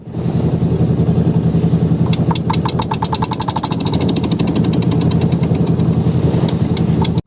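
A nearshore fishing boat's engine running after starting, a loud, steady low chugging drone with a rapid mechanical clatter joining in partway through, close and continuous throughout.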